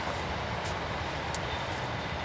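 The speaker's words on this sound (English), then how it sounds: "Yeah, it's a very long goods train." A very long goods train passes nearby, a broad, continuous rumble and roar that stays loud and steady throughout with occasional brief hissing bursts, heard outdoors during a walk with no talk.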